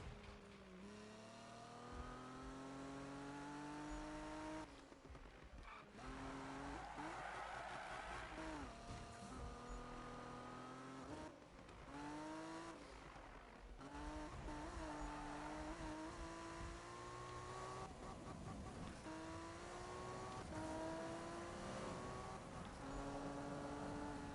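A Toyota Supra tuned to 1030 hp drifts in Need for Speed 2015, its engine revving and shifting in rising sweeps with tire squeal, continuous and close throughout.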